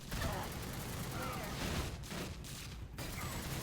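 Enemies in the third-person shooter game Fuse fire at the player in dense, rapid bursts of gunfire that pour out loud and nearly continuously, with brief dips between volleys.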